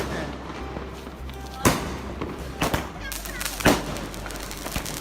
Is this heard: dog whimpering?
no